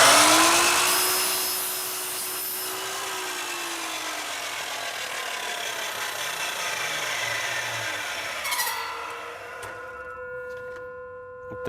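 A power saw cutting through a window screen frame profile, a loud whining cut that drops and steadies, then ends with a shift in pitch as the blade runs down, with no talk.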